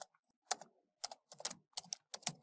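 A computer keyboard clacks out a prompt for ChatGPT in quick, irregular bursts of keystrokes with short pauses between them, close and clear, with no voices.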